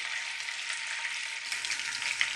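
Butter melting in sunflower oil in a pan, a continuous, fairly loud hissing sizzle that holds steady throughout, no voices.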